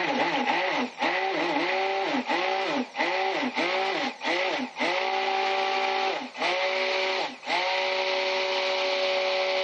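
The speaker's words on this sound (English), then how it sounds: "I actually might even have to hit it with the stick blender to get it to float like I want it to" A stick blender whirs through goat milk soap batter in repeated bursts, its motor droning steadily with brief dips and revving swells as it is pulsed on and off.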